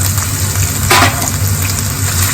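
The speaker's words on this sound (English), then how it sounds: "I'm going to fry the onion where it kind of gets to being translucent" Onion fries in a pan with a steady sizzle, a continuous crackling hiss with a brief louder burst of spatter near the middle.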